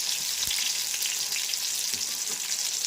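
White eggplant and tomato fry in a pan with a steady, close, bright sizzle and crackle throughout, with faint stirring and no talk.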